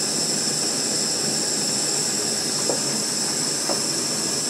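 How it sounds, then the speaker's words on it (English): A camping stove burner roars while boiling water, a loud, steady, hissing rush close by with a couple of faint ticks and no other sounds. "With this fuel going, I can't hear very well"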